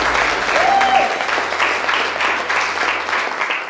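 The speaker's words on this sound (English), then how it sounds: "I think we should all give each other a round of applause." A round of applause at the close of a fashion show taping, steady group clapping that fills the whole stretch at an even, fairly loud level, with a brief whistle-like tone early on.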